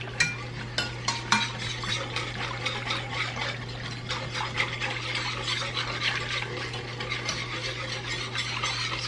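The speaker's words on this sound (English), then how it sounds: "We're going to stir this all together, and this is going to thicken up and become our roux." A whisk stirs chicken broth and milk into a roux in a pan, giving a steady scraping, sloshing stir with a few sharper clinks near the start over a constant low hum.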